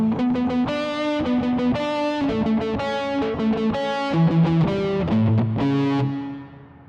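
Distorted electric guitar plays a solo: a rapid run of picked notes with heavy drive and a chorus-like shimmer, loud and continuous, ending on a held note that fades out.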